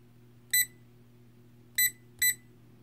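Eachine T100 battery charger emitting three short high electronic beeps, one alone followed by a closely spaced pair, over a faint steady hum.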